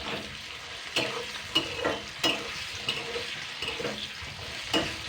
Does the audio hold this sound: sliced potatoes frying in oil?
yes